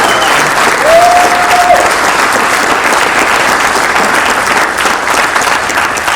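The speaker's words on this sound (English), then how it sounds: "Can you guys give them another huge round of applause?" Steady, loud audience applause fills the room at a real estate top producers event, sustained clapping from a large crowd throughout with a brief whistle near the start.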